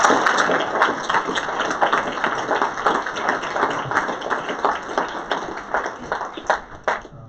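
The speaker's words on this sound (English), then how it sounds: "Here's a list of our partners here. Big round of applause." At an Air Force Pitch Day media event, an audience applauds the partner companies with lively, close clapping. A steady high tone rings underneath, and the clapping tapers off with a few last claps.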